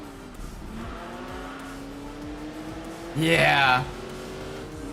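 Bugatti race car in the Enthusia Professional Racing video game, its engine holding a steady drone with a brief louder burst of tire squeal or revving near the end, under a short spoken word.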